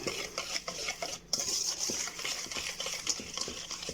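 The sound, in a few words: stirring sugar in a bowl until it dissolves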